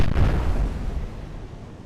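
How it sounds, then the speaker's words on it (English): A naval gun salvo from the cruiser Leipzig in the game Atlantic Fleet, one deep booming blast that rumbles and fades away. "Leipzig is still firing back. Actually has resumed firing."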